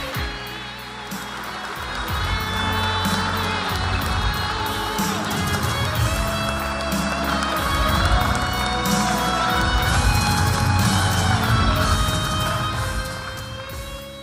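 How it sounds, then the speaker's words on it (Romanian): An audience at a book launch claps and cheers warmly for an honoured guest, a loud, sustained roar of applause with scattered shouts that builds and holds for over ten seconds before easing off. "Aplauze pentru doamna Floarea Calotă!"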